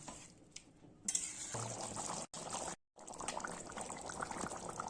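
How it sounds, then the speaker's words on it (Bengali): Warm water poured into a simmering duck egg curry in a pan, a brief steady splash and gush lasting a couple of seconds, near and soft, broken by short gaps, with no talking. "যে জলটা একটু গরম করে রেখেছিলাম সেই জলটা দিয়ে দেবো জলটা দিয়ে ভালো করে মিশিয়ে নেব"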